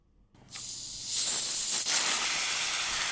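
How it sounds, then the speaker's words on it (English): A carbonated drink bottle is opened, releasing a sharp hiss that swells into a sustained fizzing rush of escaping gas and rising bubbles, close and fairly loud, with no talk. "You open the top and there is a fizzing sound, and then a bunch of bubbles rise to the surface."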